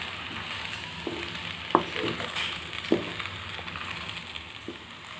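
Egg macaroni gets stirred in a frying pan with soy sauce and pepper powder, a steady soft sizzle broken by a few scraping knocks of the spoon against the pan.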